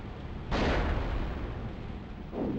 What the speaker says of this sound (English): And here is the frag grenade damage.